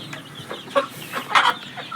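Young roosters clucking inside a coop, with several close, short clucks and calls scattered irregularly across the moment, no talk.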